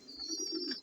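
Racing pigeons cooing in a loft, a soft low murmuring coo running through most of the short moment alongside a faint high steady tone.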